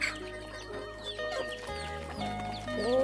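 Chickens and ducks foraging on a Thai rural farm, with a few soft clucks over steady low background noise and a faint hum; no talking.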